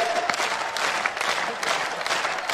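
An audience claps in a sustained round of applause at a recital by Hindi poet Hariom Pawar, a dense crackle of many hands from a sizeable crowd that continues without a break.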